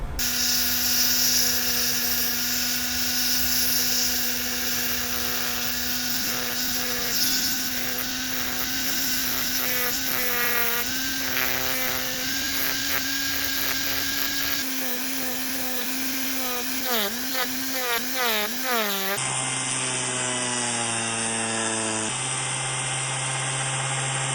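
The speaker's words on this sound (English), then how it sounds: "I think my best bet is going to be to chamfer these edges with this little sanding drum" Small rotary sanding drum chamfering the edges of a wooden fishing lure carved from cemetery wood, a steady close high-pitched whine that shifts in pitch as the tool bears down and eases off, running continuously.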